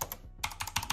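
Quick typing on a Razer BlackWidow V3 gaming keyboard with a Quartz finish, a close, quiet run of crisp clicky keystrokes in an uneven rhythm after a short pause, with no voices.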